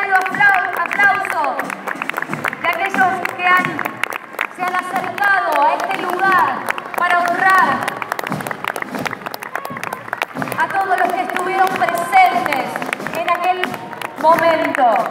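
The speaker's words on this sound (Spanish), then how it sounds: "Y continuamos con los fuertes aplausos para recibir a los héroes de Malvinas de la Armada Argentina." At an Argentine military parade for Malvinas war veterans, spectators keep up strong, continuous clapping and cheering while a loud announcer talks over the crowd almost without pause.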